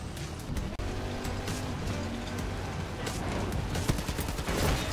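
Rapid bursts of weapon blasts and gunfire from a first-person shooter video game, dense and continuous throughout with a few sharper louder hits, no talk over it.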